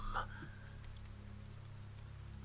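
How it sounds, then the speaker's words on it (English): Steady rain in the video game Pillars of Eternity hisses evenly throughout, a constant wash of patter over a low droning hum, with no voices. "Once again it continues to rain."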